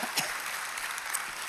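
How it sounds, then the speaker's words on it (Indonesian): Applause from a church congregation during a sermon, a steady wash of many hands clapping at moderate level with no voices over it. "Beri tepuk tangan yang meriah."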